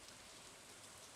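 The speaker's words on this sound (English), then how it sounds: "holy cow, that's the green rain" Green rain falling in the video game Stardew Valley, with a faint, steady patter of rainfall throughout.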